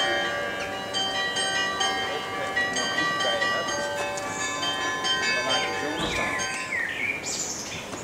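Church bells in Amsterdam, Netherlands ring out in a steady, overlapping peal, with birds chirping faintly in the background and a voice briefly heard.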